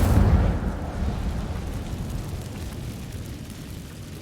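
An Incendio fire spell in Hogwarts Legacy bursts with a loud whooshing boom at the start, then a rumbling roar that slowly fades over several seconds, with no talk over it.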